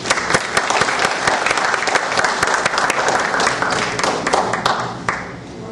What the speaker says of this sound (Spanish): Con ustedes. Aplausos.